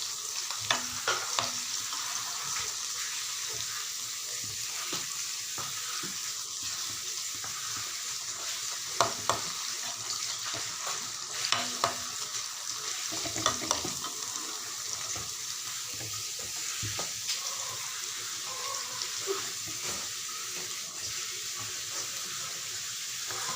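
Raw banana masala chips frying in a pan give a steady sizzle throughout, close and even, with occasional clinks and scrapes of stirring and no voices.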